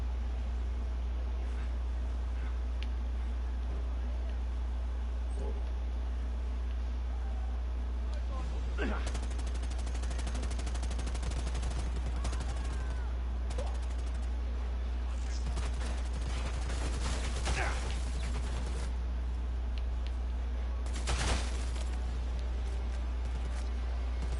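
Gunfire crackles in a video game shooter, with bursts of automatic fire and scattered shots spread over a steady low hum. The shots are moderate in level and partly masked, and a voice talks over them in places.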